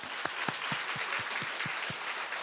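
Church congregation applauding during a Sunday sermon, a steady wash of many hands clapping at moderate distance with a few sharper individual claps standing out, no talk over it.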